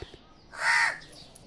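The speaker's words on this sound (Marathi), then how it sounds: "कावलं ओरडतात बघ" A single harsh crow caw rings out clearly in the middle, loud and nearby, against a quiet background.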